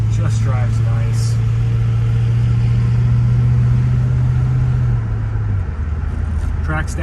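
A 1969 Lincoln Continental Mark III cruising on the road, its engine giving a steady low hum and road drone from inside the cabin, with the pitch dropping slightly near the end.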